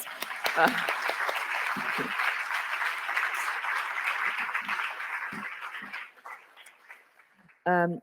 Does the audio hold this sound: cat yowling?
no